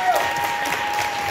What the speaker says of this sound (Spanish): darles un aplauso, que se lo han ganado